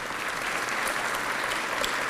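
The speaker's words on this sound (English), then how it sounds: "That deserves itself a round of applause" An audience at an osteoporosis awareness event breaks into steady applause, a dense even wash of many hands clapping that carries through unbroken, fairly loud and close, with no talking.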